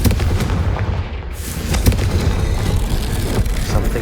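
Confringo spell blasts in Hogwarts Legacy go off as a steady barrage of loud, booming bursts and crackling impacts, dense and continuous with no talking.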